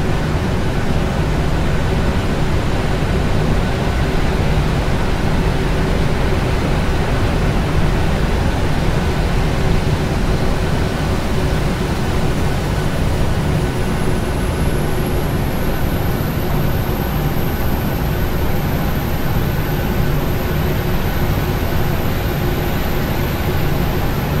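A Boeing 737-800 taxiing in a flight simulator, producing a steady, loud, broadband jet engine roar with a low hum that holds throughout. A thin high whine rises in past the midpoint, and no one speaks.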